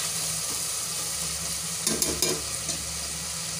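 A mushroom biryani mixture being stirred in a pan: a low continuous sizzle with a brief cluster of spoon scrapes against the pan near the middle, close by and with no talking.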